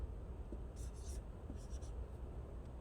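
A chemical formula being written on a classroom board, with soft repeated stroking sounds in a few quick clusters over steady room hiss.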